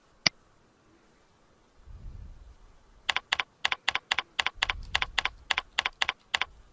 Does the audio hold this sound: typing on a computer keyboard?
yes